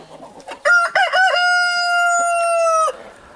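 A rooster crows once, loud and close, a long sustained cock-a-doodle-doo after a few rising notes, standing alone with faint background noise.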